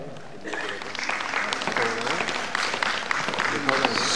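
A crowd applauds at a community women's empowerment event in India, with steady clapping running throughout under a murmur of voices.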